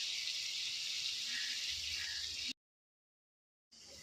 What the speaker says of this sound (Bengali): এরপর অল্প পরিমাণে জল দিয়ে দেবো